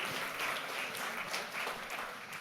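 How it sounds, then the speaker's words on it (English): Audience applause at a live mental-math performance, a continuous wash of clapping from a crowd, moderately loud and steady for its short length with no voices. "Give him another round of applause"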